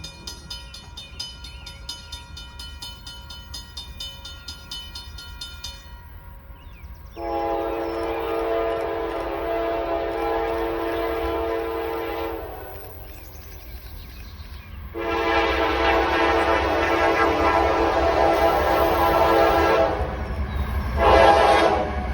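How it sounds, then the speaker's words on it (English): A Norfolk Southern intermodal freight train passes nearby behind a standard Norfolk Southern locomotive lash-up, sounding loud repeated horn blasts over a steady rumble of rolling cars. "Here's Norfolk Southern Intermodal 212 with a standard Norfolk Southern lash-up."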